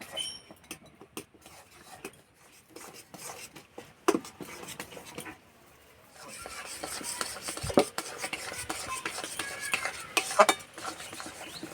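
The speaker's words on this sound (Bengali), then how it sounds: "এইভাবে অল্প অল্প দিতে হবে নাড়তে হবে নাহলে দলা বেঁধে যাবে" A spoon stirs a semolina mixture in a pot over low heat, giving repeated scraping clicks and soft taps against the pan, sparse at first and then busier with wetter stirring noise.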